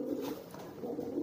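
A young homing pigeon coos softly in a low, steady murmur, close by and continuous.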